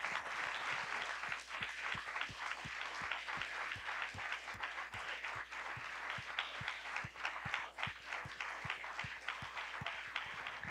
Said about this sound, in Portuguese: Eu queria que você desse um aplauso a Jesus por essas vidas